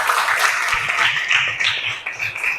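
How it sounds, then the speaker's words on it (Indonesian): Classmates clap for a student in a Grade 7 classroom, a short burst of close, uneven hand clapping from a group of children with some tapping mixed in. "Tepuk tangan buat Amel"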